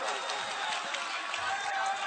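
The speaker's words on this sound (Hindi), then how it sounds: "बस एक बार तालियां आप बजाइए" Audience at a mushaira poetry gathering in Bisham, Azamgarh claps in a dense, steady patter, a hall full of hands sounding together without a break.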